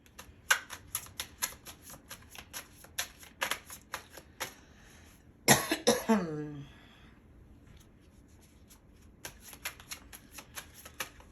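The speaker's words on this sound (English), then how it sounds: "Oh, there goes my first card that flipped." Tarot cards being shuffled make rapid close riffling taps, then a louder flurry as a card flips out, with a quiet pause before the shuffling resumes. A voice speaks during the clip.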